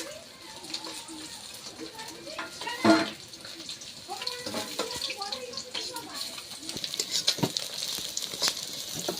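Katla fish fries in shallow oil, giving a continuous hissing sizzle with bursts of crackle, heard under people talking nearby.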